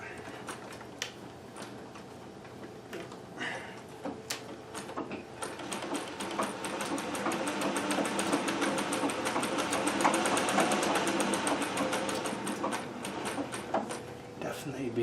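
A treadle-driven Singer 411G sewing machine with a custom balance wheel runs in a continuous rhythmic whir and patter, close and building slightly in speed, with a person talking briefly over it.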